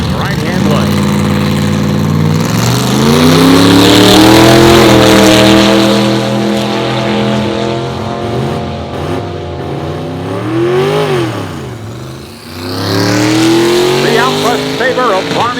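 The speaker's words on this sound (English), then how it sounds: "a 55 Almquist Sabre with the blown supercharged small block Chevy in the right-hand lane" 1955 Almquist Sabre gasser with a blown, supercharged small-block Chevy at a drag strip, loud engine revving and surging in pitch with rising and falling passes, under a track announcer's voice.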